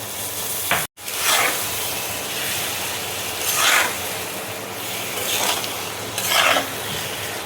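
Okra with spices sizzles and hisses loudly in a pan just after a splash of water is added, a continuous steamy frying sound with periodic swells of louder stirring and a brief dropout near the start.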